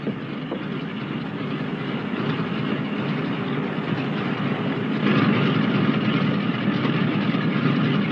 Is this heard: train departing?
yes